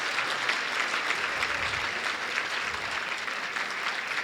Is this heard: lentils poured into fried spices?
no